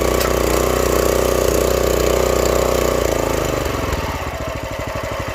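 Small gas engine on a log splitter running steadily after being kick-started, a loud droning idle that shifts into a choppier, pulsing chug toward the end.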